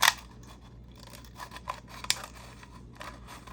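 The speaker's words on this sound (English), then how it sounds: "I'm just gonna use scissors" Scissors snip and slide through paper in a few soft, close cuts, with quiet rustling between them and no talking.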